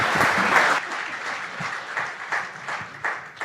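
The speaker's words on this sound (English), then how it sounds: "Let's give them all a big round of applause." Congregation at a Sunday service in Palm Desert claps to welcome Daniel, the backup singers and the band; a loud burst of applause that thins into scattered, separate claps as it fades.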